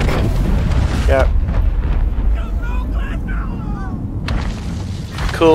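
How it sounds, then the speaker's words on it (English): A loud explosion booms in the co-op video game It Takes Two, a deep rumbling blast with wind-like roar and some game sound that swells and fades over several seconds. "Cool people don't look back at explosions."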